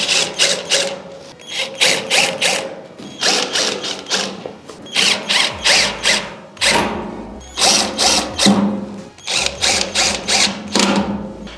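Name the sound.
power drill driving in screws during assembly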